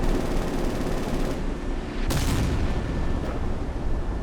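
Game missile striking a P6 torpedo boat in a naval combat sim, a dense rumbling blast with a sharp crack of impact partway through, then a fading roar, with no talk over it.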